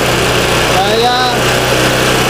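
Honda Vario scooter engine revved while parked during a battery voltage check, a loud buzzing high-pitched drone heard close and steady, rising briefly, with someone talking over it.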